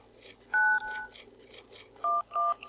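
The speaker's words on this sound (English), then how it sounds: "So we'll pull out our phone" Phone keypad tones in Saints Row beep as 911 is dialed: a short two-tone beep, then a quick pair of beeps, crisp and close over a quiet low background hum.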